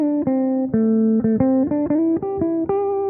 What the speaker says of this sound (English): my guitar now basically sounds like this